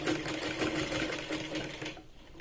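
A sewing machine runs steadily, stitching the sleeve of a Punjabi dress with a fast continuous whirring rhythm that stops abruptly near the end.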